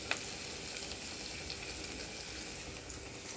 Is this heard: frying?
yes